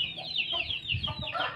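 A newly bought hen clucking close by, a short series of rapid, nasal clucks and chirpy calls repeating over about a second and a half, with no talking over it.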